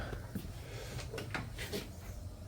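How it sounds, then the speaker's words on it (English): A louvered door near a newly installed 50-gallon water heater is closed, a faint, quiet series of soft wooden clacks and shuffles. "You can close that door"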